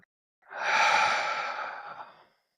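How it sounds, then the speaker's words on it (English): A close, audible deep breath in is followed by a long, slow exhale, a soft airy breath that fades out gradually near the end of a mindfulness practice. "we can take a deep breath in and a long, slow exhale out"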